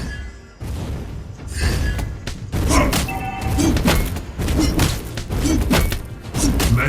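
A turret collapses in a mobile battle game, with a run of heavy thuds and crashing impacts over several seconds, loud and dense with game effects layered on top.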